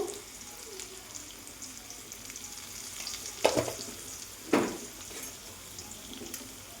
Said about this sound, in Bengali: আলুটাকে লাল লাল করে ভালো করে ভেজে নেব